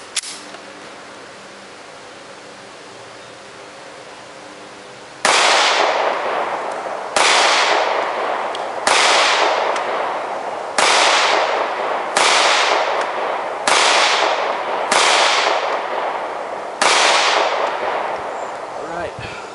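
Smith & Wesson M&P Shield 9mm pistol fired at a range: after a quiet stretch, a series of about eight sharp, loud gunshots at irregular intervals, each with a short ringing decay.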